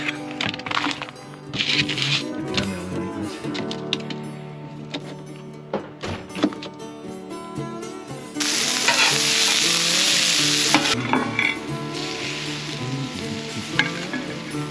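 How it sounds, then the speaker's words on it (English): Elk meat frying with cabbage, onions and jalapenos in a pan on a mountain road trip, steady sizzle with stirring scrapes and occasional thunks, swelling into a louder hiss midway, close and without talk. "it's gonna be fried up with some cabbage, some onions, some jalapenos, some onions"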